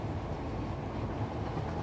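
A train ride in the factory-building game Satisfactory: a steady, close low rumble rolls on without a break, with no voices over it.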